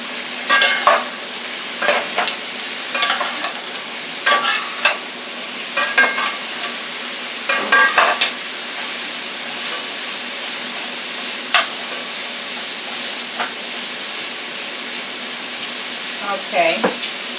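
Vegetables stir-fried in olive oil for garlic steak with peppers and onions sizzle steadily, with clattering spatula scrapes in irregular bursts, heaviest early and again near the end.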